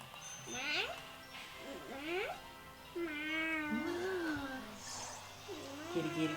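A cat meows repeatedly, several drawn-out, rising and falling cries fairly close by, with a person's voice calling to it in between.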